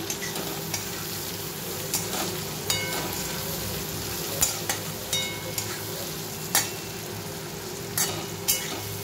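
Chopped green chillies frying with mushroom and chicken give a steady close sizzle, with sharp spatula scrapes and clicks against the pan at irregular intervals.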